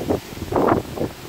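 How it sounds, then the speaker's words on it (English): Strong wind gusts buffet the microphone outdoors, rising and falling in rough bursts with a loud surge in the middle, no talking. "It's so windy."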